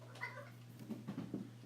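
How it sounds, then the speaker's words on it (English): A house cat in the background gives a few soft, short meows in quick succession, very faint and distant in an otherwise quiet room. "You can hear my cat in the background."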